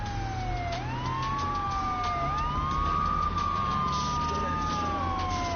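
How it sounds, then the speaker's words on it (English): Police sirens wail in Grand Theft Auto III, a steady rising and falling tone that repeats through the clip over a low rumble of street and engine noise, with no talk. "That sound you hear, the sound of sirens"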